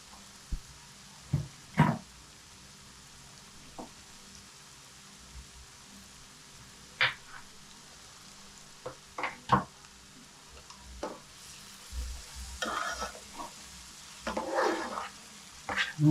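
Masala spices for a fish curry frying lightly in a pan, giving a soft, intermittent sizzle with scattered crackles and stirring scrapes, fairly quiet and close, with no talking.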